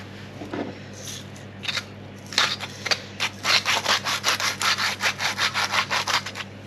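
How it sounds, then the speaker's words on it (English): Hands rub cracked pepper into a raw roast beef joint, a few scattered scrapes giving way to a steady run of rhythmic, close rubbing strokes that speed up and grow louder toward the end. "Beef and pepper are best friends. Just rub that in."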